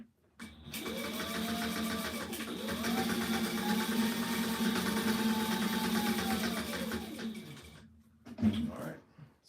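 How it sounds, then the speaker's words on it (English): Sewing machine stitching a riggers belt at full speed, running steadily for several seconds with a mechanical whir and rising and falling motor pitch, stopping briefly near the end before a short burst. "keep this machine sewing at full speed just as much as we can"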